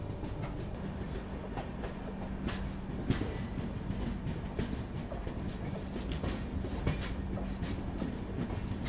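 The 22944 Indore Daund Express rolls at reduced speed to merge onto the main line, heard from inside a 2AC coach. A steady, dense rumble of wheels and carriage noise continues throughout, with faint rhythmic clicks and a low hum and no voices.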